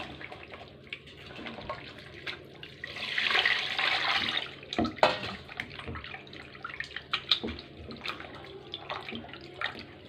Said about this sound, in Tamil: க்ளீன் பண்ணி கழுவியாச்சு மட்டனை.